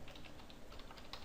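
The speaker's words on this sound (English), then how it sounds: "and then type in radio button" Rapid, steady typing on a computer keyboard while entering code, a continuous patter of close key clicks with no talking.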